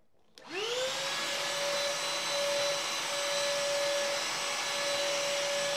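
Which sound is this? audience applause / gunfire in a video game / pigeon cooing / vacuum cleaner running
vacuum cleaner running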